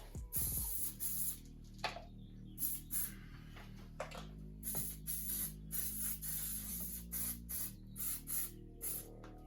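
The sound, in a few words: brake cleaner spraying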